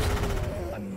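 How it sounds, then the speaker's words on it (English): A precise-explosion spell goes off in a fantasy strategy game, a dense burst of crackling, gunfire-like blasts that fills the whole second and fades slightly toward the end. "Precise explosion."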